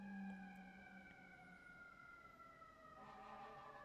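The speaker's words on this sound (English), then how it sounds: "Here's the first fire truck of the day. Took an hour for the first siren to come." A fire truck siren wails at a distance, its long steady rising-and-falling tones drifting over quiet background rumble.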